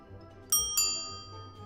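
Bell sound effect for a cat video game, struck twice in quick succession, two bright metallic rings about a quarter second apart, each ringing out and decaying slowly over a low background hum.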